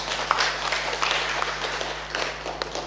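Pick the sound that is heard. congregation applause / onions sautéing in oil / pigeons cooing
congregation applause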